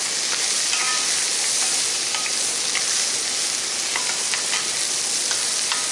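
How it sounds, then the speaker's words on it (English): Food seasoned with black pepper sizzles steadily in a hot pan while it is stirred, a loud continuous frying hiss broken by scattered scraping and crackling ticks throughout. "Give that a stir."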